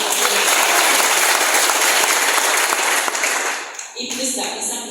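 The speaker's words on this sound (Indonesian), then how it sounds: "Tepuk tangan buat saya" Church congregation at a prison chapel service breaks into loud, sustained applause filling the room, tapering off near the end as a voice starts speaking.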